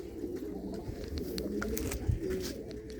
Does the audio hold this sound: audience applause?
no